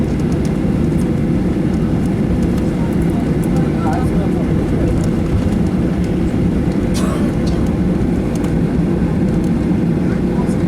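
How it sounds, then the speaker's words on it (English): Airplane taxiing onto the runway during a holiday trip to Spain, a steady loud low engine rumble heard from inside the cabin, continuous throughout with faint clicks and cabin noise. "And now, onto the runway we go."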